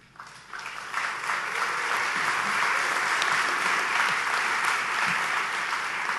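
An audience at a university business school award ceremony breaks into applause that swells within the first second and holds as dense, sustained clapping across a large room.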